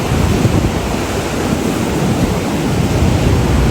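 Strong wind roars across the microphone over a steady wash of crashing ocean surf, loud and continuous throughout with no voices.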